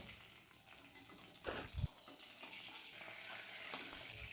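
Lentil dumplings (bori) drop into hot leftover fish-frying oil from cooking koi fish, giving a quiet sizzle with a brief louder splash and crackle as they go in, then a soft steady frying hiss.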